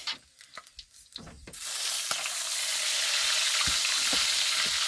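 Petai beans dropped into hot oil in a pan for sambal, a few light clicks and taps followed by a sudden loud, steady sizzle of frying that continues to the end.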